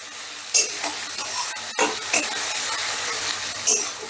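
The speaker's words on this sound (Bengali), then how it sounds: "পেঁয়াজটাও হালকা করে ভেজে নেব" Onion paste fries in a pan while a spoon stirs it, giving a soft continuous sizzle broken by several sharp scraping clicks of the utensil, close and fairly quiet.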